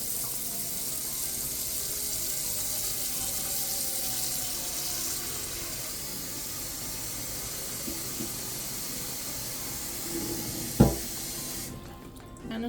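Tap water runs steadily into a cooking pan being filled less than halfway for boiling tomatoes, a continuous close hiss and splash with a brief clunk near the end as the flow stops.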